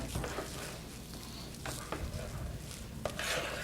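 Stirring a mixture studded with crunchy celery bits, a soft scraping and clatter in a bowl with a few sharper knocks, close and moderate against low background noise.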